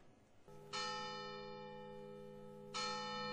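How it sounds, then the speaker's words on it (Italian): Church bells of Agrigento cathedral tolling in mourning, two long ringing strikes with sustained humming overtones that linger and decay, heard from a distance. "Da ieri sera e fino al 24 novembre le campane suoneranno a morto."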